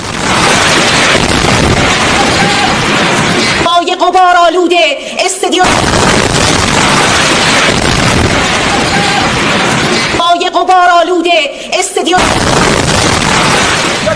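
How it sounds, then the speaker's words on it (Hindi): Israeli strikes hitting the Iranian state TV channel's building send out loud, sustained broadband roaring blasts that fill most of the stretch, broken by two short passages of a voice talking. "इजराइल ने एक के बाद एक धमाके किए हैं और चैनल की पूरी बिल्डिंग तबाह हो गई है।"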